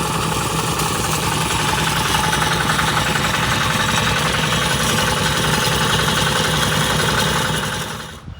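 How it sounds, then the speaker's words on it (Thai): A ten-wheel truck's diesel engine runs at a steady idle at a rice farm, loud, close and unbroken throughout, with a low rumbling throb that fades slightly at the very end. "สิบเกียร์นั่นเลย"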